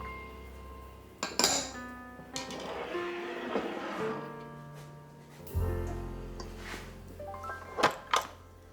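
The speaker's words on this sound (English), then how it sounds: "Give it a little stir" A spoon stirs sugar, oil and salt in a bowl at home, making soft clinks and scrapes against the bowl in short, scattered bursts with quiet pauses between.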